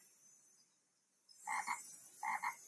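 Frogs croak in a lily pond with two short bursts of paired, throaty calls, separated by a pause, over a faint hiss of outdoor background.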